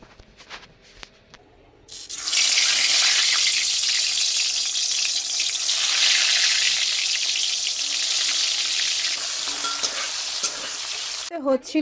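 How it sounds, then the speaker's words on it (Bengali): Salted pieces go into a hot karahi and burst into a loud, dense sizzle that holds steady and close for about ten seconds after a quieter start with light clatter. "ভাজাগুলো এবার আমি ভেজে নিই।"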